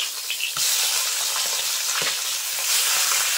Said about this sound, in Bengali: এই যে এখন মাছগুলো উল্টে দেবো আমি